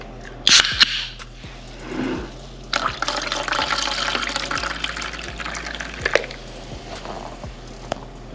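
Pepsi is poured from a bottle into a glass, a short splash followed by a steady fizzing, bubbling fill that carries on for several seconds, with faint regular clicks ticking underneath.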